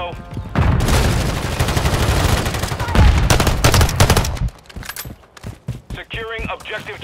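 Heavy automatic gunfire and explosions rattle through a Call of Duty: Modern Warfare 3 Domination match, loud and nearly continuous for several seconds before thinning into scattered shots while radio-style voice lines play.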